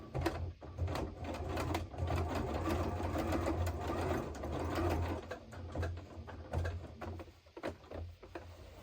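A sewing machine stitching a side seam in fabric: a quiet, rapid mechanical whir in short runs, broken by clicks and brief pauses as the work is stopped, lifted and turned, with no talking.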